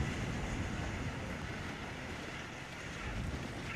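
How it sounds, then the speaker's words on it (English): A steady, dense wash of rushing water and wind roar continues without a break as the Titanic's stern falls back into the sea in a Roblox game, with no distinct single splash. "the ship is now splitting. And the stern is falling back into the water."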